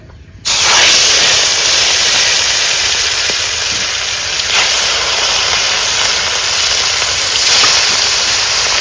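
Fish dropped into hot oil in a wok bursts into a loud, sudden sizzle that holds as a steady, close hiss without a break.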